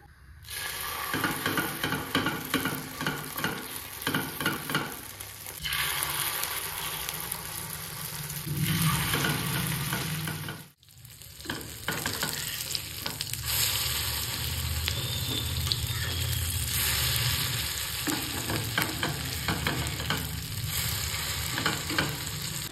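Marinated chicken frying in white oil, a loud continuous close sizzle and hiss with stirring scrapes, briefly cutting out midway before resuming just as strongly.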